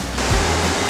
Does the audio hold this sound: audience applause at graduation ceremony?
no